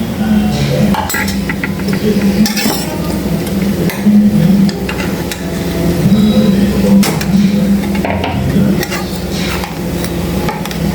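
Ground paste is stirred into a cooking dish for a traditional Kerala lunch, with steady scraping and clinking of a spoon against the pot over a low sizzle, heard close and continuous.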